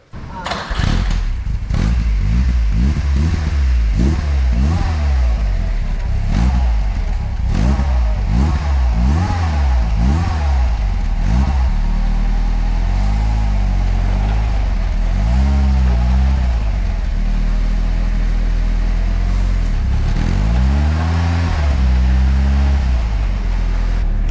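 Turbocharged Fiat Spider engine starting and running, loud and close, with rhythmic cranking thumps giving way to a rough, uneven idle and occasional revs.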